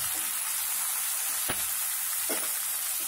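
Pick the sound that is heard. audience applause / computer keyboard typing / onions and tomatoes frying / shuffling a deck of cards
onions and tomatoes frying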